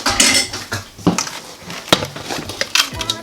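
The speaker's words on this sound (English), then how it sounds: "And I'm just going to continue mixing everything together." Sour cream being mixed into keto mini cinnamon roll cheesecake batter, with close, busy clinks and scrapes of a utensil against the bowl that come in irregular bursts.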